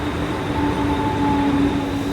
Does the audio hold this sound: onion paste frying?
no